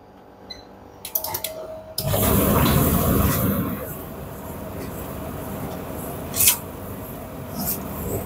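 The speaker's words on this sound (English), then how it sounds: "pump is working. You can see here water coming." A Siemens clothes dryer's pump starts after a few clicks and runs with a loud, steady whirring hum while pumping water, easing slightly but continuing to the end, with a sharp knock partway through.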